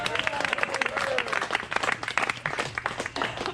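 Party guests applaud together, a dense burst of clapping at steady moderate loudness with crowd murmur and a few voices mixed in throughout.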